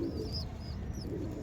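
Pigeon cooing close by, a couple of soft warbling coos over a quiet background hum, no talking.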